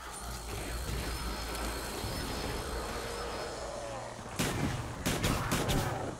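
Gunfire in the video game Call of Duty Black Ops Zombies: a dense run of game audio, then several loud sharp shots in close succession near the end.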